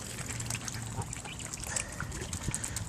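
Geese and other birds, including swans, gather at a feeding spot, heard as faint scattered quacks and calls with light splashing over a steady outdoor background.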